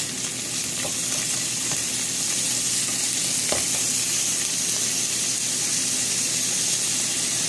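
Beaten eggs with vegetables, seasoned with salt and pepper, frying steadily in a pan as an omelette, a close, even sizzle with a few soft clicks of a utensil and no talking.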